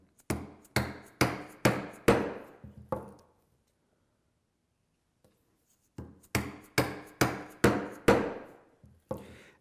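A chisel is driven by sharp, close mallet blows to chop mortises in walnut. Two bursts of five or six rhythmic strikes are separated by a few seconds of silence.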